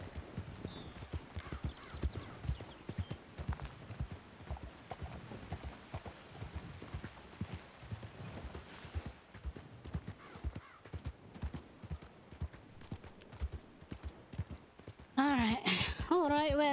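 Horse hooves clip-clopping in a Western-style video game, a fast continuous rhythm of hoofbeats running nearly the whole time at moderate level, ending with a brief burst of a different louder sound at the close.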